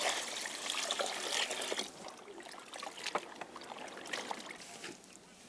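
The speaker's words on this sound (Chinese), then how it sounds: "再用水洗一下。" Salted zucchini being rinsed under running water in a farm kitchen in rural northern Shaanxi, a steady trickle and splash of water with faint clatter, fairly continuous and close, no talking.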